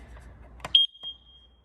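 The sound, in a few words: Kidde 10-year carbon monoxide alarm self-test beeping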